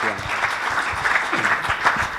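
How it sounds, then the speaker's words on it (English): Enthusiastic audience clapping for a featured entrepreneur at a business event, brisk and continuous, with a few louder bursts and a faint voice or two underneath. "A round trip ticket and a round of applause"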